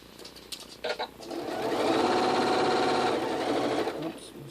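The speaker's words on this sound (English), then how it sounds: "So I'm just stitching along this outside" A sewing machine stitches quilt block pieces at a stitch length of 1.8, a close, rapid, steady whirring hum that speeds up and holds for a few seconds after a couple of brief starts, with a voice speaking over it.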